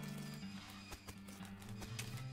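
A horse in the video game West of Loathing clip-clops with a series of quiet, evenly spaced hoof taps over a low game music drone, faint in the mix.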